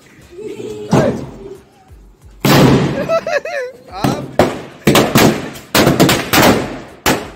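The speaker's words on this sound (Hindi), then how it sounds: "यहाँ विकास बम्बे आके लगा रहा है।" Firecrackers burst during a Govardhan Puja celebration with family, a series of sharp loud cracks and bangs in quick succession, mixed with excited shouting and laughter nearby.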